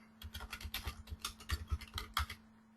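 Rapid typing on a computer keyboard, a close, quick run of clicky keystrokes in uneven bursts over a faint steady electrical hum.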